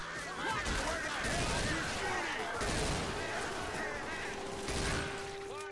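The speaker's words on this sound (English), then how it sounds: "Watch where you're shooting!" Rapid bursts of gunfire crackle and pop continuously close by during a farm-area shooting game near a barn and fence line, loud throughout with a few heavier surges, while voices talk over it.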